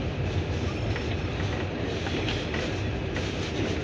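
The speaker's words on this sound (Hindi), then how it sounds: "अब ये वसई रोड से डिपार्चर हो रहा है" The Trivandrum Rajdhani Express, heard from inside a 3 AC coach as it departs Vasai Road, rolls with a steady, loud rumble and rhythmic clatter of wheels on rails.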